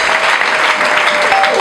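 Loud, sustained applause at a Rwandan evangelistic gospel gathering led by a prophet, dense clapping from a large congregation filling the whole moment with no pause.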